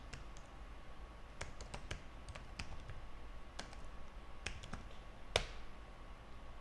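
Keys on a computer keyboard are tapped in sparse, irregular clicks, close but quiet, with one sharper click near the end over a soft background hum.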